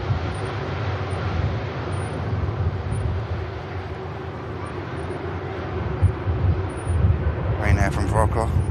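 Broad, steady jet roar of a Ryanair airliner at Manchester Airport, loud and continuous like a distant takeoff or rollout, with a brief faint rattle near the end.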